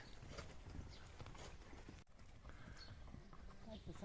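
Horse hooves clip-clopping in Cappadocia, Turkey, a steady run of hoof knocks with a whinny under background chatter and wind.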